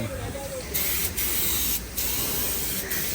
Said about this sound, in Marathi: स्प्रे पेंटिंग आहे एकदम